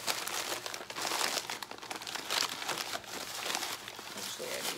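Paper bags are crumpled up by hand for gift basket filler, giving continuous close crinkling and crunching for the whole stretch.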